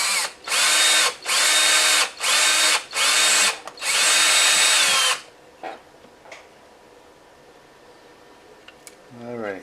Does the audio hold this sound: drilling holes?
yes